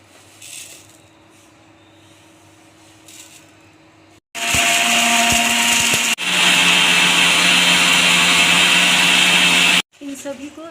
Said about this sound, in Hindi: सभी को हम एक साथ डालेंगे और ग्राइंड करेंगे।